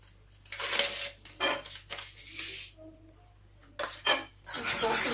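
A utensil clinks and scrapes against a bowl in uneven bursts while cake batter of sugar, oil and vanilla sugar for an apple and raisin cake is mixed by hand, with quiet pauses between strokes and no voices.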